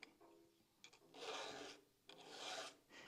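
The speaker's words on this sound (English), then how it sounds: "we can go ahead and take just a few swipes with the file" A hand file rasps across a chainsaw tooth in two long, steady strokes, with a few short scrapes between them, close and fairly loud and with no talk over it.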